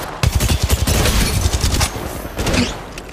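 Rapid bursts of gunfire in the battle royale game Apex Legends during a ranked match, loud and close, with quick repeated shots in the first half followed by further fire and in-game effects.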